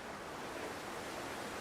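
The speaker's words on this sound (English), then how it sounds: "Too windy to start a fire right now." Steady, broad rushing wind in The Long Dark, a constant even whoosh with no gusting peaks, moderately quiet and heard alone.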